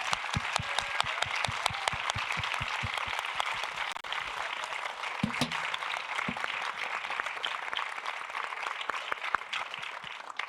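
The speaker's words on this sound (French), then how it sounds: "Merci beaucoup à nos invités, on peut les applaudir." An audience at a film festival discussion event applauds the guests with sustained, dense clapping from a full room, steady throughout, with a few brief voices mixed in.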